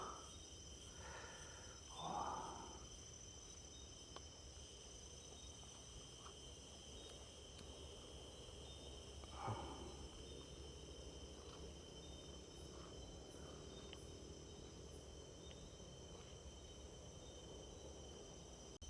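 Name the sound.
crickets chirping on a mountain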